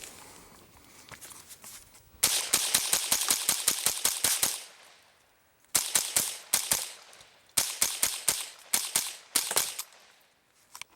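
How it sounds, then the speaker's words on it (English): Ruger 10/22 rifle emptying a 50-shot magazine in rapid fire: sharp, evenly spaced cracks in long bursts, with short pauses between strings of shots, then a few later bursts. "this is my 50-shot Ruger clip and one of my Ruger 1022s"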